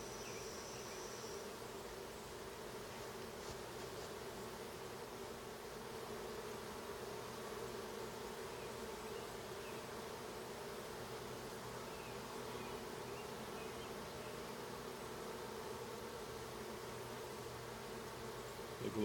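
Honeybees hum steadily around an open hive during an inspection of deep frames with brood, a continuous low buzzing that holds at an even level throughout with no talking.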